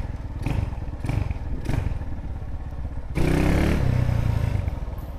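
A Honda CB motorcycle engine runs close by with a low, steady rumble, growing louder and rougher partway through as if revved, with some clatter.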